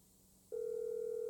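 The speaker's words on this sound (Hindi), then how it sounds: "अभी करता हूँ लेस्टर को कॉल।" In the GTA 5 video game, an in-game phone call starts to ring: after a brief quiet lull, one loud, sustained electronic tone begins and holds steadily to the end.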